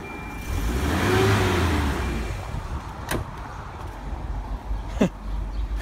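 A Volvo car engine revs up near the tailpipe after a sea foam treatment, rising to a strong swell and then settling to idle, with two sharp metallic clicks or taps later on.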